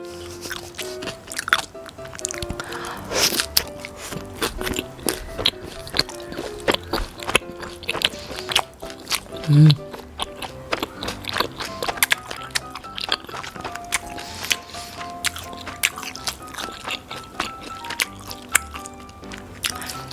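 Jajangmyeon noodles and sweet and sour pork eaten up close, with repeated slurps, wet squishy chewing and crunchy bites in an irregular rhythm over about twenty seconds, with no talking.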